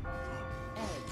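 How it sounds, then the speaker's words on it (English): A bell tolls in the puzzle game Catherine, a ringing tone with sustained overtones sitting faintly under background game sound. "Oh, I hear the bell."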